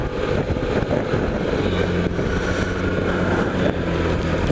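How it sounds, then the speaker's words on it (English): A Suzuki Burgman 650 scooter cruises through Sydney streets, its muffler giving a smooth, continuous exhaust drone with a low steady tone, mixed with constant wind rush over the microphone. "And it's also got a very nice muffler noise or sound, if you like."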